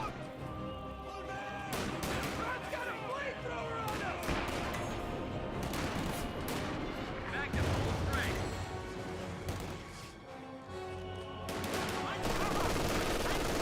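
Gunfire pins down a squad in Company of Heroes 2, with bursts of shots and crashing impacts running continuously over a busy battle din. Several sharp loud cracks stand out along the way, and no voice is heard.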